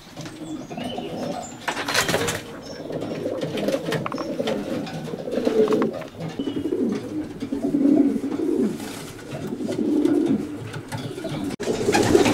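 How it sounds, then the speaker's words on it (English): Racing pigeons coo softly inside a stock loft, overlapping low burbling calls from many birds close by, with wing flutters and shuffling mixed in. "This is the scene inside Paul's stock loft and the birds go outside to a lovely aviary"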